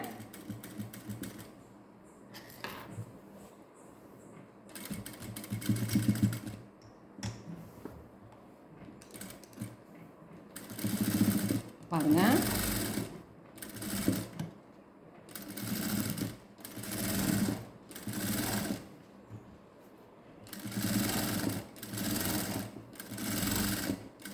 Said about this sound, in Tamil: இப்போது நம்ம இந்த ஓரத்தில் இன்னொரு தையல் போட்டுட்டு வரலாம்